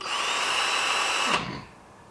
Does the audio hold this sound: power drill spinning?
yes